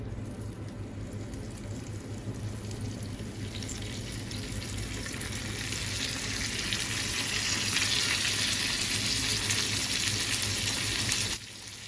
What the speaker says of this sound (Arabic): ويلا نسمع صوت الطشطشة الفظيع